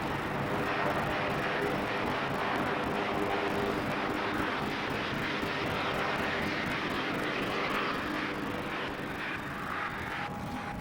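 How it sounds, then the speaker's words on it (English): Historic aircraft flying at the Farnborough airshow during a 50th-anniversary gathering, with a steady, loud engine drone that holds for the whole stretch without letup. "The Vimy, along with the Lockheed Constellation, flew into Farnborough to join a collection of historic aircraft"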